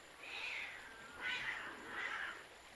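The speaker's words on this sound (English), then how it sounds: "the rocks were alive with wrestling, screeching cats" Several drawn-out cat yowls and screeches rise and fall in three swells over a faint hiss, sounding like cats fighting, with no talking.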